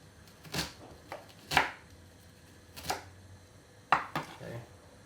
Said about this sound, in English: now I'm just going to chop up the onions, one of our onions.